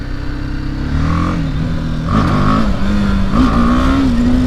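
BMW G 310 GS single-cylinder motorcycle engine revving up through a wheelie, a loud close drone whose pitch rises and dips in surges over steady wind and road noise.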